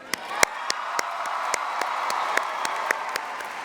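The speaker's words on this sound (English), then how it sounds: "we should applaud our awesome drum line that we have" A graduation audience applauding the drum line at a Cy Creek ceremony: a steady wash of many hands clapping from a distance, with sharp nearer claps standing out at irregular moments, no voices.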